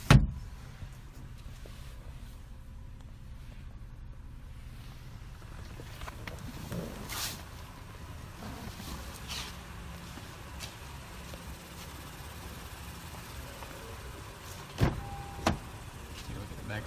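Electric sunroof motor on a 2014 Acura MDX with 62,000 miles, a low steady whir opening the roof panel inside the cabin, with faint clicks and a couple of brief louder knocks near the end.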